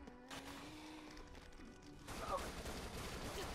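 Gunfire in the zombie shooter Dead Nation, a faint game soundtrack tone giving way to a dense rattling fusillade of shots in the second half.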